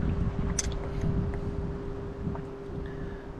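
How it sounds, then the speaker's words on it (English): Steady wind buffets the microphone on a sandbar along the Satilla River, a constant low rumble with a faint tonal hum and small knocks, with no voices. "Look at that wind."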